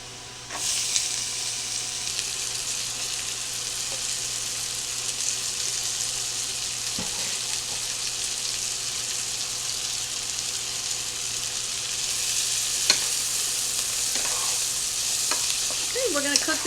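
Celery, onions and carrots sautéing in a pan for Thanksgiving stuffing muffins, a steady close sizzle holding at an even level throughout with a few faint clinks, no voices.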